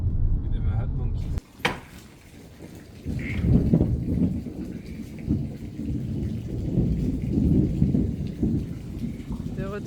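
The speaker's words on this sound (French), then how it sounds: "De retour dans notre petite maison avec l'orage." Thunderstorm in Bali with heavy rain pouring steadily on surfaces, a sharp thunder crack early on followed by rolling rumbles, loud and continuous throughout.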